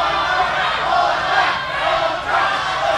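A wrestling crowd roars and chants at an event, a loud sustained wash of massed voices swelling and dipping, close and filling the space.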